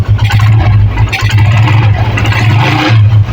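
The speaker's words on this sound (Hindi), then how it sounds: "ये आपको आवाज़ भी सुना लेता हूँ गाड़ी के इंजन का साउंड" A 125cc motorcycle engine, just refitted with its cylinder head, runs loud and close with a steady low rumble, its pitch rising and falling slightly as it is revved.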